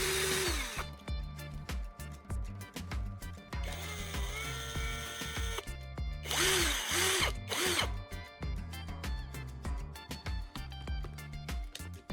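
A power drill spins a carbon rod tip against a sheet of sandpaper, whirring in short bursts with repeated starts and stops, close and fairly loud, plus brief gritty sanding rasps between runs; nobody speaks.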